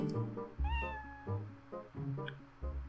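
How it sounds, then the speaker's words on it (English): A cat meows repeatedly in the video game Twilight Princess HD, with several short, clear calls over soft background game tones. "Let's see if the cat recognizes us."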